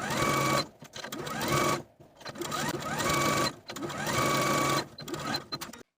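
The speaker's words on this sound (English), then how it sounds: "Now I'll take it to my sewing machine and edge stitch close to that inner edge all the way around." A sewing machine edge stitching close to the inner edge of a facing for a New Look 6543 top: loud, rapid mechanical whirring runs in three long bursts, separated by brief pauses.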